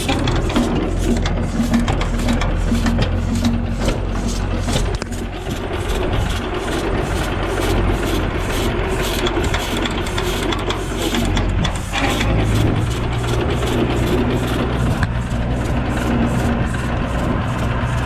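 A John Deere A tractor that has sat unused for three years, being towed to start, gives a steady mechanical chugging and clattering with a fast regular pulse, loud and close, running throughout with a brief dip midway.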